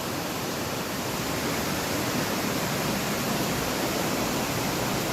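A waterfall in Kanchanaburi, Thailand roars steadily and evenly, a dense continuous rush of falling water with no breaks.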